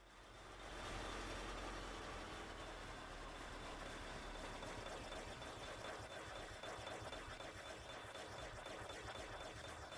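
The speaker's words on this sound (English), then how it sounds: "the truck, turn the engine off," A truck engine idles steadily in a video game, a continuous broadband rumble and whir held at a constant level after a short rise, with no talking over it.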